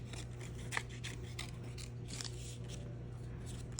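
Scissors snip out black and white paper circles at close range, a series of quick, crisp cuts and rustles spaced irregularly over a low background hum.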